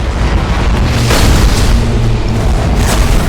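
Main battery cannons firing aboard warships in Battlefleet Gothic Armada 2, producing a loud, continuous low booming rumble of overlapping detonations and explosions that stays heavy throughout.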